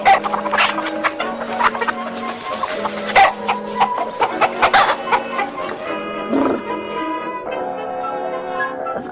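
Chickens cluck and squawk busily in a henhouse, with sharp calls and a rooster's voice rising among the flock, close and continuous.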